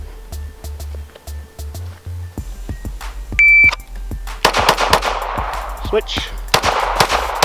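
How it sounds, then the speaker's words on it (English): Pistol shots on an outdoor range during an ATF qualification course, several sharp cracks in quick succession with an electronic timer beep, and a person speaking briefly. "you're going to shoot just non-dominant hand only. 3 more rounds"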